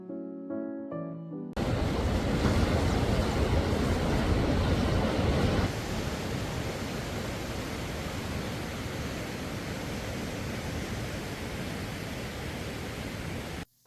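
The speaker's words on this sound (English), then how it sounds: "the sound of the ocean waves, and the sight of the seagulls flying above" Ocean surf at Essaouira on the Moroccan coast roars as a steady, loud, broadband wash of breaking waves with wind noise, preceded by a brief moment of music before the waves take over.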